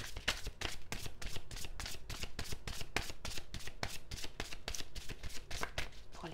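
Tarot cards being shuffled for a card reading, a fast, steady run of crisp riffling snaps repeating evenly throughout, close and fairly loud with no talking.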